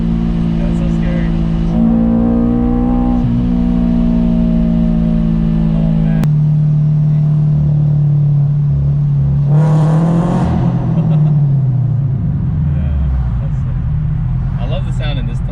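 A boosted Subaru BRZ engine revs hard and echoes inside a tunnel, loud and close, as the droning note rises and falls through the gears while people talk and react over it.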